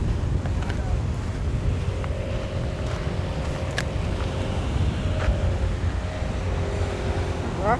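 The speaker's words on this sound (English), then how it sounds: "It's windy." Steady wind blows across a jetty by the pier, a constant low rumble of buffeting against the microphone that runs for about eight seconds, with faint distant tones under it.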